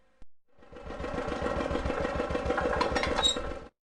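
A tractor engine from a preschool educational game, starting up with a short burst and then running in a steady, rhythmic chug that cuts off abruptly.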